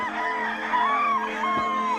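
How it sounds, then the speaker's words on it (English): A lone rooster crows nearby in a long drawn-out call over a steady background hum, the crow rising and falling twice across the stretch. "you still would hear a lone rooster crow."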